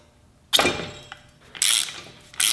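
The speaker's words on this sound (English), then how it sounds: "I've got my ratchet designed to slip around all of this." A ratchet wrench loosens a strut nut on a hydraulic spring compressor, giving three sharp, loud bursts of ratcheting clicks separated by short pauses, close up with no talking.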